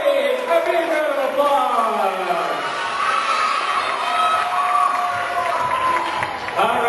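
A live audience at a children's show with a performing mind-reader dog act cheers and applauds loudly, with excited children's shouts and whoops filling a dense, sustained crowd roar.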